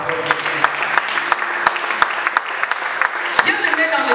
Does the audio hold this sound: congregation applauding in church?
yes